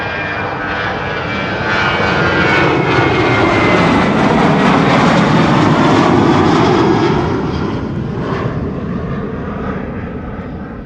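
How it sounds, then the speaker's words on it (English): A TUI-operated Boeing 737-800 jet departs from Amsterdam Schiphol runway 24, a loud sustained engine roar that swells over several seconds and then slowly fades as the aircraft climbs away. "a regular 737-800 flying on behalf of TUI"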